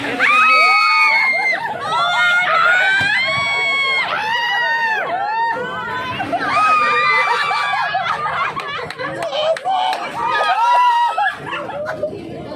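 A crowd shouts and cheers continuously at a lakeshore, with high children's screams rising and falling over steady loud chatter, and people speaking amid the din.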